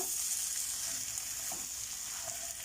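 Sausages sizzling in a pan over high heat, a steady, close frying hiss with faint crackles running throughout, no voices.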